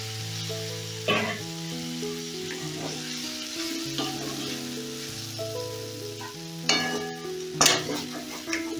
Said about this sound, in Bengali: এবার ভেজিটেবলগুলো ভালো করে ভাজা ভাজা করে নেব।